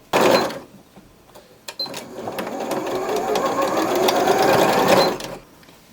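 A sewing machine runs in a steady, close burst for a few seconds while stitching a double hem on a small fabric doll dress, starting and stopping with brief pauses around it.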